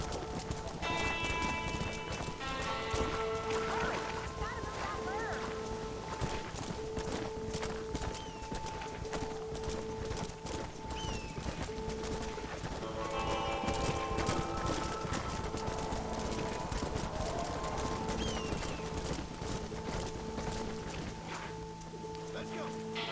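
Horses stampeding in the Red Dead Redemption video game, with steady hoofbeats and occasional whinnies under a constant music bed and people talking throughout.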